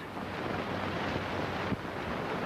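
Wind gusts steadily, rumbling and buffeting against the microphone in a continuous broad roar, with one brief thump near the end.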